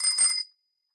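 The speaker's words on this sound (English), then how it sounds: "Bicycle bell" Bicycle bell rung once up close: a bright, metallic trill lasting about half a second, then cutting off into silence.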